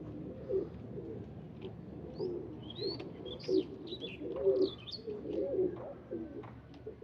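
Several Teddy Ferozpuri pigeons give low, rolling coos in repeated bursts, fairly close and moderately loud, with scattered higher chirps from other birds and a soft background murmur.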